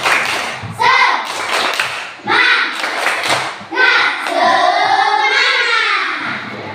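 Schoolchildren in a classroom do a rhythmic spirit clap, bursts of hand claps alternating with children's voices chanting in unison, loud and close, ending in a long shouted cheer.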